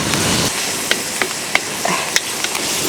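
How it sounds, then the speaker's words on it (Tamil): Ginger garlic paste sautéing in a pan for Chettinad egg gravy, a steady soft sizzle with a few light clinks and scrapes of a spoon stirring. "இஞ்சி பூண்டு பேஸ்ட்டுங்க நல்லா பச்சை வாசனை மட்டும் நல்லா வதக்கி எடுத்துக்கலாம்"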